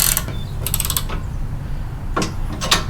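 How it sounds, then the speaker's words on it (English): A bolt being snugged with a regular ratchet socket wrench on an RV hitch setup, giving short bursts of close ratchet clicks at the start, middle and end, with quiet gaps between. "this is a regular socket set. Got to start with that. Make it somewhat tight first."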